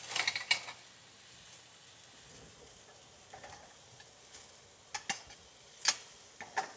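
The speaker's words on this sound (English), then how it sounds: "Give those mushrooms a nice sear" Mushrooms sear in a hot pan with a low, steady sizzle, broken by scattered crackles and a few sharper taps and pops, all fairly faint.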